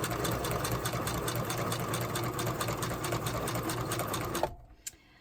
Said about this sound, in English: I'm going to sew in a straight line with my zigzag almost to this corner